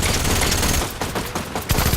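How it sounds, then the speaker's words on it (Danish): Bursts of rapid gunfire in the Fortnite video game, loud, close and crackling, with shots in quick succession and no talk over them. "Ja, lad os så skyde ham derude der."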